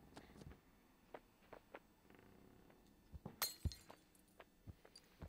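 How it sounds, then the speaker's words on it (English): Glass breaks in the physics game Human: Fall Flat with a thin, quiet shatter and a few clinks, set among faint scattered knocks and taps. "They used the most anemic glass sound I've heard in a while."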